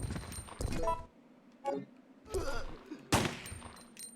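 Pistol gunshots from the Resident Evil 3 video game ring out as several sharp, loud bursts spaced across a few seconds, each with a quick decay, amid game ambience with no talking.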